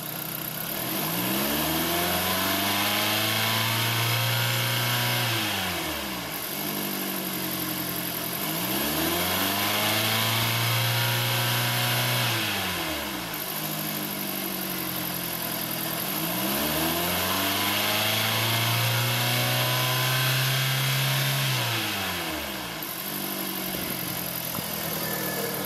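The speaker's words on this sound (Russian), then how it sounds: "Работа двигателя на высоких оборотах." Heard up close, a 2010 Hyundai i20 with a 1.4 G4FA engine revs repeatedly to high RPM, four rising and falling sweeps several seconds apart, each dropping back briefly toward idle.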